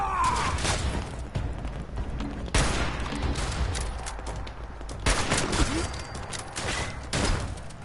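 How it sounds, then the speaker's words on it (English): Gunfire rattles in the video game Fallout 76, rapid volleys and bursts crackling loudly and almost without pause, layered into a busy, chaotic exchange of shots. "why are you shooting at me, you lot?"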